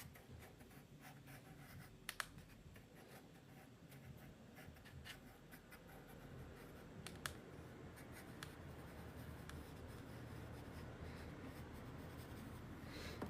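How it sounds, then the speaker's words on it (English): Graphite pencil scratching steadily across paper while sketching a mountain peak, a continuous soft rasping of strokes with a few sharper taps, close and quiet, no talking. "Then I can just draw one final peak."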